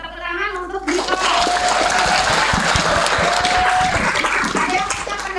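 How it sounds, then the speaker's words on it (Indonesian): Audience applause for a student named Dito at a campus orientation session, a dense burst of many hands clapping that starts after a brief spoken phrase and carries on loudly to the end. "Tepuk tangan untuk Dito."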